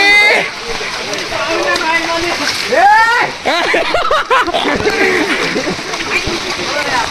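Water splashes and sloshes around outdoors near a lake at Matheran, in repeated loud splashes while several excited voices shout and talk throughout.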